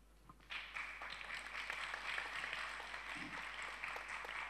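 Faint, distant applause from a seminar audience, a steady wash of many hands clapping that starts abruptly and carries on evenly, with no voices over it.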